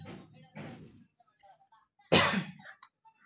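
A person with a cold coughs: two soft muffled coughs close together, then a single sharper, louder cough after a pause, close to the listener.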